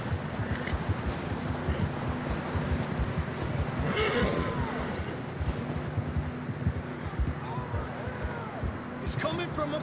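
A horse neighs in a Western video game, several brief whinnies over a constant background of wind and hoof noise, with speech present.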